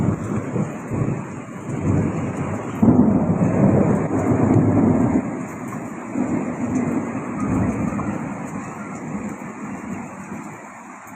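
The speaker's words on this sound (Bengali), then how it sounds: "বজ্রপাত করছে।" Thunder rumbles through steady rain during a Kalbaisakhi storm, the broadband roar swelling around the three-second mark and staying loud and close for the whole stretch, with no talking over it.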